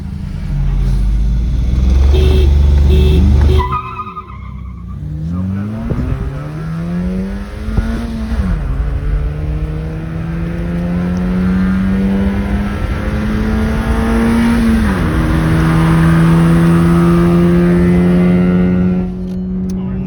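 Two cars, a Honda City and a Volkswagen Virtus, accelerate hard side by side in a drag race, engine notes climbing through several gear changes in a loud, sustained roar up to speed.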